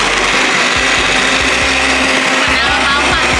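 A blender whirs continuously at full, loud volume while blending canned rambutan, a steady grinding roar with slight rhythmic pulsing and no break.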